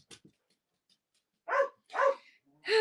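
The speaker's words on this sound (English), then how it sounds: "Loki, stop barking at things." A dog gives a few short barks and yips, the first brief and faint, then three louder, nearer bursts spaced about half a second apart, in an otherwise quiet indoor room.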